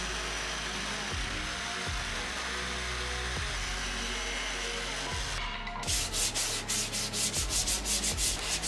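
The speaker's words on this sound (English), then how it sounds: "do my final finishing with some sandpaper" Sandpaper rubbing across a wooden board by hand, a steady gritty scraping in long back-and-forth strokes, close and continuous, turning into quicker, sharper strokes near the end.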